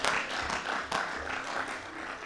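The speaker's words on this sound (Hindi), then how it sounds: "इनको इनके लिए एक बार जोरदार तालियां आप लोग बजाएं" Audience applause at a Hindi comedy poetry gathering, a dense steady patter of many hands clapping for a poet, fairly distant and moderately loud with a brief swell midway.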